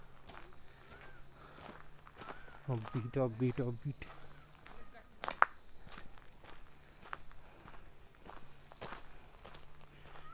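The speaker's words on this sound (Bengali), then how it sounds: "শুধু অনুভব করো পাখির ডাক, কন্টিনিউ ঝিঝি পোকার ডাক" Crickets in a Darjeeling forest keep up a continuous high-pitched drone. Footsteps crunch nearby and a voice speaks briefly over it.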